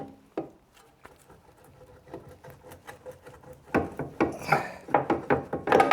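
A front suspension strut being wiggled down out of a car, with close creaking, scraping and knocking metal sounds in irregular bursts that grow louder toward the end, and no talking.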